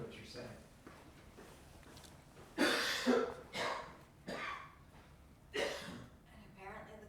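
A man coughs several times in harsh, separate bursts, close to the microphone, with quiet breathing and low room noise between the coughs.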